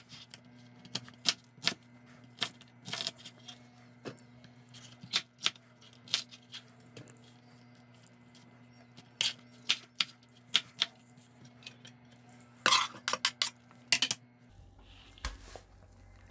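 Onion, potato and celery being chopped for soup, a knife tapping a board in quick, irregular close clicks, then a brief flurry of chops before a low thud.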